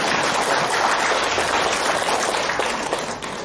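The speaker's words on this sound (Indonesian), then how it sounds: "Kita tepuk tangan dulu untuk beliau." Audience applause at an economics teachers' workshop opening in South Sulawesi, a dense roomful of clapping holding steady before tapering slightly at the end.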